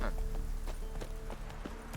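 Horse hooves clip-clopping at a run in The Witcher 3 on Xbox Series X, a steady rhythmic drumming of hoofbeats mixed with game music and ambience, with a voice talking over it.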